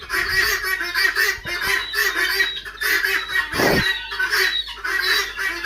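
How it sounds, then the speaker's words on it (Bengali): Quail on a farm give a dense chorus of chirps and squawks that runs steadily throughout, close and fairly loud, with some brief lower thumps in between. "দেখতেই পাচ্ছেন আমার কোয়েল পাখিগুলো মাটিতে"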